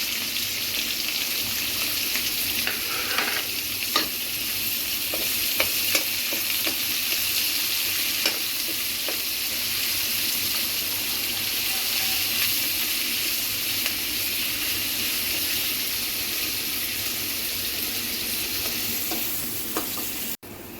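Onion and chili frying together in hot oil, a continuous close sizzle with scattered scrapes of stirring throughout and a sudden stop at the very end.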